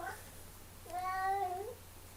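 A cat gives a single faint, drawn-out meow indoors, set low against a steady background hum and room noise.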